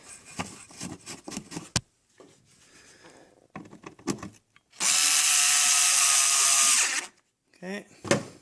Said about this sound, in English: I'll go ahead and put the screws in place.